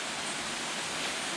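Waterfall on a hiking trail in Grenada, a steady broadband rush of falling water, even and fairly faint, with no voices.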